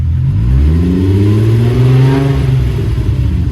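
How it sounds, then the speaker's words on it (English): A car engine revs loudly and steadily up close at the exhaust, still fitted with its catalytic converter, its deep exhaust rumble rising slightly in pitch before settling back, at a car show. "Give me a couple revs."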